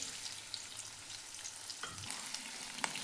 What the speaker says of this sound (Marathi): कांदा छान असं तेलामध्ये भाजून घ्यायचा आहे.